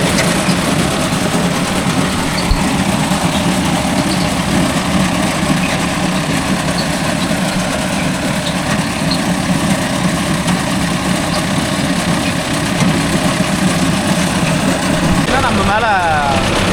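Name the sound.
Mahindra Arjun Novo 605 DI tractor engine running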